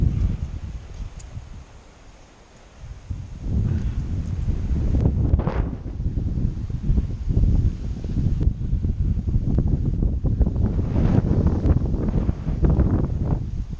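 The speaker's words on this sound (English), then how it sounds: "This wind is getting pretty crazy." Strong wind roars and buffets across an outdoor riding arena, hitting the microphone in heavy gusts that ease briefly before building again, steady and loud for the whole stretch.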